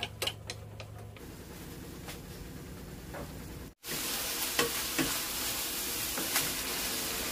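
Frozen beef frying in butter with onion, a close, steady sizzle with light clicks of a utensil, a brief cut halfway, then louder, denser crackling.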